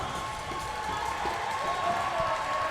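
A large crowd cheers and roars steadily at a 2014 USA versus Canada wheelchair rugby semifinal, a sustained wash of arena noise with no clear breaks.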